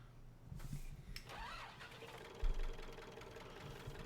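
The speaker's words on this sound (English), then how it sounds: "We'll jump into our little tractor and get this show on the road." A small tractor's engine in Farming Simulator 19 cranks, catches and settles into a low, steady idle with a faint knocking chug. It sounds quiet and close, with one brief thump partway through.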